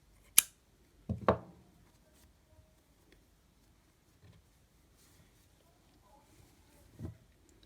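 Scissors snip crochet yarn close by with a couple of quick, sharp cuts, followed by long quiet stretches and a faint later clip.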